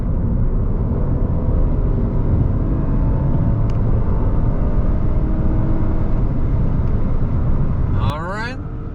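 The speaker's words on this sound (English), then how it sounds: "we're getting on a highway, so we can open it up a little bit and see how powerful this engine actually" Lexus ES-350 accelerating onto a highway, a loud, dense engine and road roar heard from inside the cabin that holds steady for several seconds, then eases off near the end.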